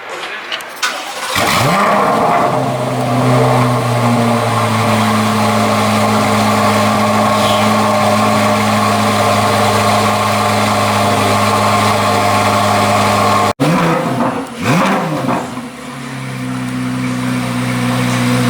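A Corvette C8 Z06 in torch red fires up at a dealership and settles into a loud, steady idle with a deep drone, then blips and restarts after a brief cut; a voice speaks over it.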